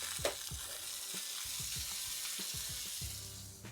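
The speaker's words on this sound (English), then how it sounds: "Ripping hot cast iron pan, melt the fat in, and drop in the burgers" Thick burgers sizzling in melted fat in a ripping hot cast iron pan, a steady crackling hiss with repeated low thumps, close and alone.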